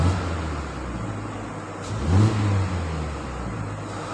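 A 2020 Mazda 6 engine runs at a raised idle, a steady mid-pitched hum that swells briefly as if the revs rise, then settles back, close and alone with no talk.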